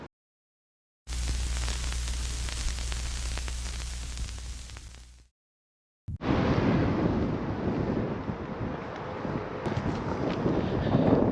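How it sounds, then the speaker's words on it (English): Gusty wind buffets a microphone outdoors on a mild, drizzly morning on the way to a 10k run in Victoria Park, a loud broadband roar in two long bursts separated by a short silence. "it's pretty windy and it's just started spitting"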